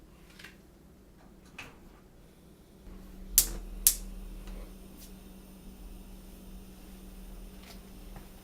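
Two sharp clicks of a gas stove burner igniting under a kettle, followed by a steady low roar of flame that continues underneath.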